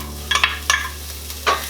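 Sliced leek sautés in a hot pan for Korean BBQ-style meatballs and noodles, a few short stirring scrapes and sizzling bursts rising over a low steady hum.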